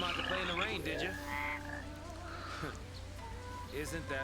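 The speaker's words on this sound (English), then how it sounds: "it's a hedge frog." A hedge frog croaks in the Final Fantasy XIII video game, a few short rasping calls set against game music and ambience, fairly close and at moderate volume.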